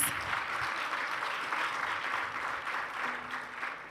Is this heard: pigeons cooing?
no